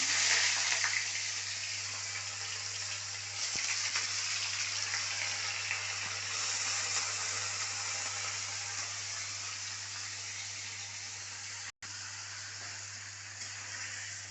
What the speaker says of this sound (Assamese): এই পনীৰটো অকণ ভাজি লওঁ